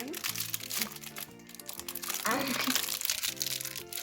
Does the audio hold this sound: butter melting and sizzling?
no